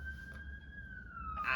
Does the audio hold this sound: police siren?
yes